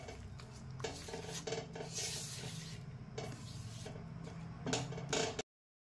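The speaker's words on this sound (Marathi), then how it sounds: "दूध, चांगलं मिक्स करून घ्यायचं." A saffron milk mixture for rasmalai modak is stirred in a bowl, with continuous scraping and clinking strokes of a spoon against the vessel, close and fairly quiet, with no voices.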